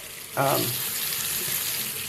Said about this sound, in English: I use warm water just because it's easier on my hands